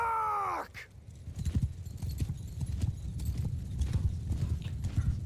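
Heavy cavalry horses in the Bannerlord battle game gallop in a dense, continuous clatter of hooves after a brief rising tone at the start, moderately loud and steady with no talk.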